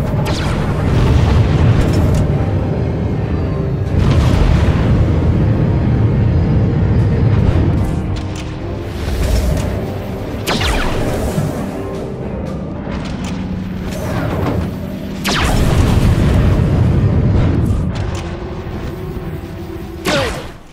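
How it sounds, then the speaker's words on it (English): In a video game, a ship launches missiles amid repeated explosions, with loud booming blasts and rumbling bursts over a continuous roaring battle din. "Target ship launching missiles."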